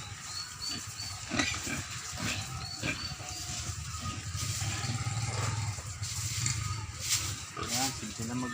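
Pigs on a farm grunt and squeal intermittently during pen cleaning, close by, with scraping and clatter around them and people talking over the noise.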